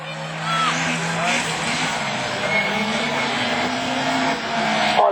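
Rallycross cars racing at a 2012 French championship round at Lavaré, with a Peugeot on the joker lap: a continuous roar of engines and tire noise from several cars, with a commentator talking over it.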